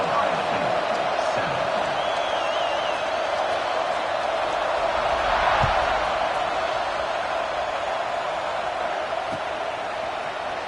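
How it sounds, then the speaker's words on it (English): A packed American football stadium crowd hums with a steady, dense roar that never lets up, broad and somewhat distant, with scattered voices blending into the mass. "this crowd is buzzing after that last score"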